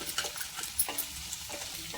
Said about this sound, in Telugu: ఇలా వేసేసుకొని ఎగ్గునైతే బాగా ఫ్రై చేసుకోవాలి